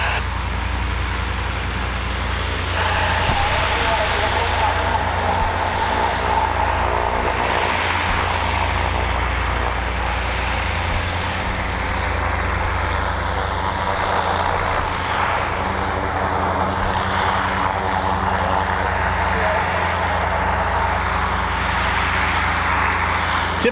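The Goodyear blimp Wingfoot One at Wingfoot Lake, its propeller engines tilted up for takeoff, drones loudly and continuously with a steady engine hum and broadband roar throughout, no talk.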